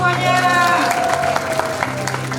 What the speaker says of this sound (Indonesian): 100 tepuk tangan semuanya.